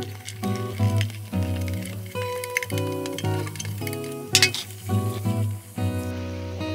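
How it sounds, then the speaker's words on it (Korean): Onions sauté in a pan of butter that was melted over low heat, giving a soft, continuous sizzle with occasional stirring clinks under louder background music. "이렇게 버터가 다 녹으면 여기에 양파를 넣고 볶아주세요."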